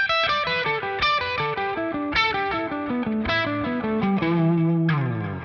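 Distorted electric guitar plays a descending pentatonic run of picked single notes, alone and up close, ending on a sustained low note.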